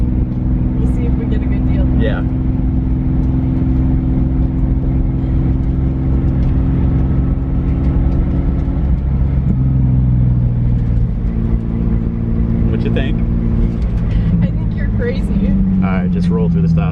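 A drift car in second gear drives straight along a street, its engine droning steadily and loudly with shifting tones throughout, while people inside the car talk over it.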